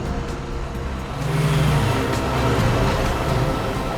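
A car drives on a road, its engine rumble swelling and growing closer after a quieter opening, then holding steady and fairly loud with no speech.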